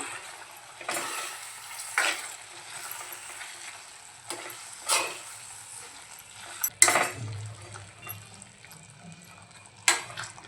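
Mutton sukka stirred in a pan after water is poured in: sharp spoon scrapes arrive every few seconds over a soft, steady sizzle, close and fairly quiet.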